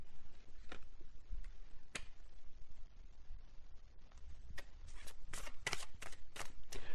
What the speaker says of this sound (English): when I shuffle this messages deck